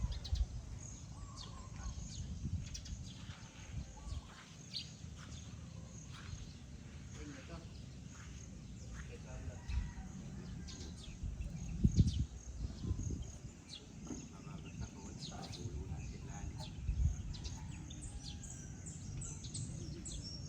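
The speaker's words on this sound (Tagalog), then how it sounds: "Bukid, daming ibon." Many birds chirp and call throughout a rural countryside morning, a steady busy chorus with some insect buzz, while people talk in the foreground.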